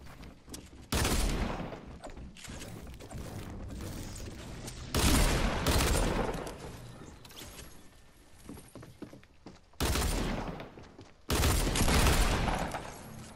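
Shots from a new dual pistol in Fortnite Battle Royale, several loud bursts of rapid pistol fire separated by quieter stretches of game sounds.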